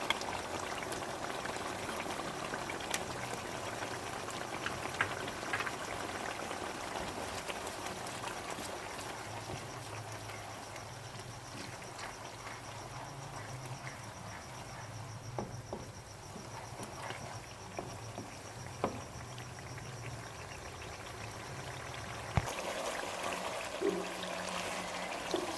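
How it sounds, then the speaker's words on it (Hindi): Onions sizzle in a pan after ginger garlic paste is added, giving a steady, dense frying hiss with small pops and crackles that continue throughout, close up with no speech. "अब हम अपने प्याज में लहसुन अदरक का पेस्ट डालेंगे,"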